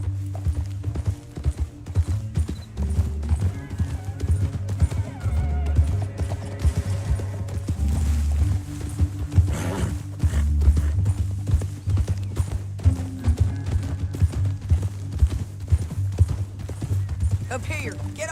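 Horses gallop through a canyon in the video game Red Dead Redemption 2, a steady clip-clop of hooves running beneath a loud, dense bed of music and game ambience, with a character's voice speaking over it.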